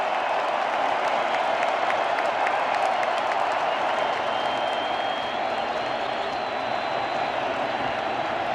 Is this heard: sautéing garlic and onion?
no